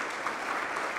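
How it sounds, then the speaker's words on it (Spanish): A congress audience at a business clinics event gives steady applause, dense and even throughout the brief moment, with no voices standing out. "yo la verdad quisiera un aplauso para el Departamento de Clínicas Empresariales"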